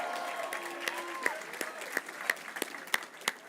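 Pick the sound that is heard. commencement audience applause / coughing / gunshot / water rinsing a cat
commencement audience applause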